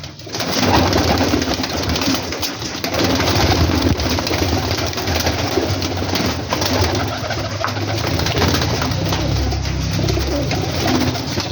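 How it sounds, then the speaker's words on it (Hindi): Teddy pigeons coo in a loft, with soft throaty calls rising and falling steadily close by over a low engine-like hum, with no talking. "टोटली जनाब कमाल के बर्ड्स हैं जनाब।"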